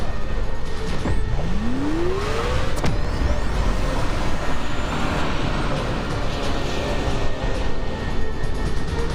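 Video game vehicle engine roaring steadily close by, a rising whine as it speeds up and pulls away, with continuous rumbling motor noise throughout.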